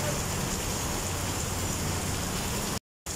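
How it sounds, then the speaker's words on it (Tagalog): Heavy rain pours in Bacolod City as a dense, steady hiss that fills the clip without pause, then cuts to silence briefly just before the end. "Kusog kayong ulan dito sa Bacolod City"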